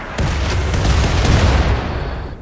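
Mortar fire in the video game RimWorld, a loud burst of booming artillery blasts blending into a rumbling roar that swells and fades over about two seconds, with no speech.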